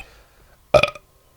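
A single short, loud burp erupts alone after near silence, with a brief rumbling tail.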